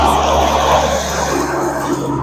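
Steady roar of city traffic rolling past a Smithfield street during an outdoor press conference, a continuous loud low rumble with engine drone and no distinct pauses.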